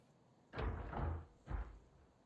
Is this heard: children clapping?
no